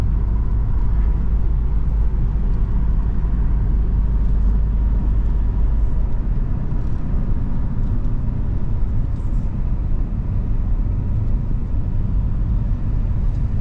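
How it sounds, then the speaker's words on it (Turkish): Steady low engine rumble and road noise from inside a car stuck in a building traffic jam in Istanbul, continuous and fairly loud throughout with no talk. "Burada trafik sıkışmaya başladı."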